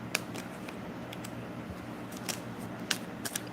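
Tarot cards pulled from a deck: soft papery snaps and flicks, a handful of brief crisp card sounds spread over a faint steady background hiss, close and quiet.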